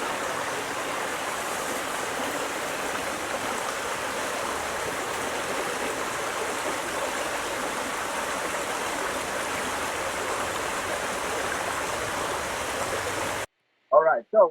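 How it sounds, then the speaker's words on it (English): A creek runs steadily as broadband flowing water, a continuous even rush that fills nearly the whole stretch before cutting off, followed by a brief burst of voice at the end. "All right, so we're down at the creek"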